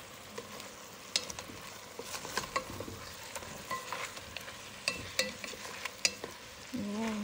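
Chicken sautéing in a hot pan for sinigang, with soft sizzling under repeated scraping and stirring strokes of a spoon against the pan, fairly quiet and close.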